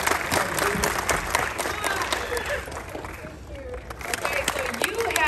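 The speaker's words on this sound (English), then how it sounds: "Give her a round of applause" An audience claps steadily through a graduation motivation event, dense applause with some cheering and a voice speaking over it.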